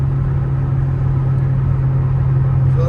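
Steady, loud engine drone from a 1987 Toyota MR2 cruising on the highway at about 3,900 RPM, a continuous low hum with road rumble and no talk.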